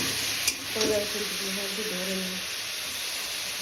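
Spices frying in a pan with onion and salt, stirred briefly: a continuous dense sizzle with a couple of scraping knocks near the start, close and loud, with no voices.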